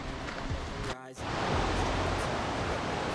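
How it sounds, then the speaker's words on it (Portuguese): A waterfall on a forest trail near Lima Duarte, Minas Gerais, roars as a steady broadband rush of falling water, loud and close, briefly cut by a short interruption. "penúltima cachoeira do dia"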